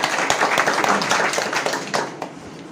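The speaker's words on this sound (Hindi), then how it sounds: "जोरदार तालियां" An audience at a business training meeting claps to welcome first-time attendees, a close burst of scattered hand claps that thins out toward the end.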